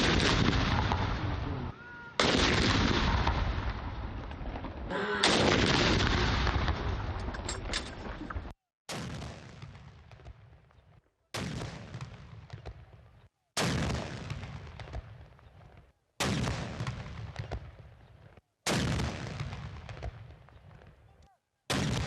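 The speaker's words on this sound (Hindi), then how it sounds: "21 तोपों की सलामी दी गई" A 21-gun artillery salute for Pakistan's Independence Day, cannons firing one after another in heavy booming blasts with long rumbling decays, evenly spaced about every two and a half seconds, loud and unaccompanied by talk.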